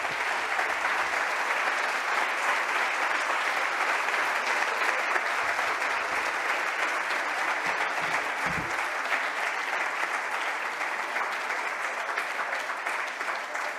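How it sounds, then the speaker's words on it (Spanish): A conference audience in a large hall gives prolonged, loud applause after a talk on the 360° city, a dense and unbroken roar of clapping that holds steady for over thirteen seconds. "Fuerte el aplauso"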